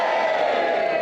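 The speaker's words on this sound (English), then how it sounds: "On 3, will you give us a big cheer?" A live audience at a motorhome and campervan show lets out a big sustained cheer, a dense wash of many voices at steady loudness throughout.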